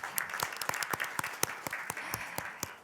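An audience at a National Assembly forum on a special act for special cities applauds its chair, a steady patter of many separate hand claps spread over a few seconds.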